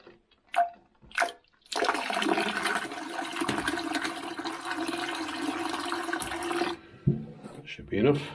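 A toilet flushing water into a U-bend, with a steady, close rush of water lasting several seconds that stops abruptly, set between brief knocks and handling sounds.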